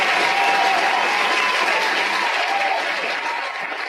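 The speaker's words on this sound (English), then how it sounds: "Let's give Gary a round of applause, please." Sustained crowd applause at a wrestling review show, steady and loud throughout, fading slightly toward the end, with no speech over it.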